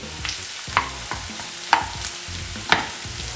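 Carrots and freshly added zucchini fry in a pan with a soft, constant sizzle, broken every second or so by sharp scrapes and clacks of stirring, with no talk.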